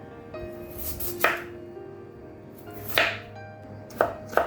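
Knife chopping potato finely on a board: a few sharp, isolated chops spaced a second or more apart, with a final quick pair near the end, close and fairly loud over a quiet kitchen background, no speech.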